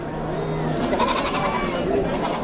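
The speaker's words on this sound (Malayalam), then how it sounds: "ഇവിടെ കുറേ വലിയ ആടുകളുണ്ട്" Goats bleat among livestock kept at Nizwa Fort in Oman, their calls close and repeated over an outdoor background, with someone talking nearby.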